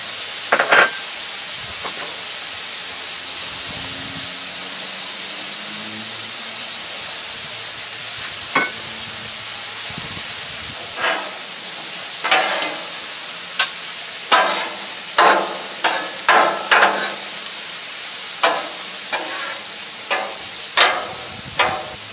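Onions and garlic frying gently in a pan over very low heat for an Asian-style pork noodle stir-fry: a continuous soft sizzle and hiss, with a run of sharp clicks and scrapes from stirring in the second half.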